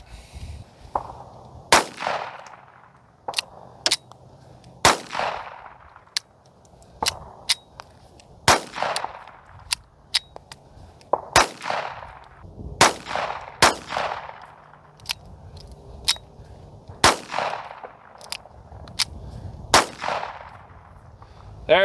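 Ten unsuppressed gunshots fired one at a time at a shooting range, each a loud sharp crack with a decaying ring-out, spaced unevenly a second or two apart with no talking.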